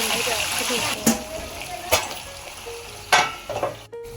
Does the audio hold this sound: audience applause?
no